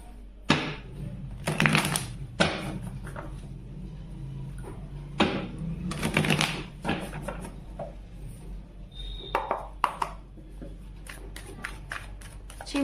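Tarot cards being shuffled in bursts of crisp riffling and flicking, with quiet pauses between the bursts, close and moderately loud.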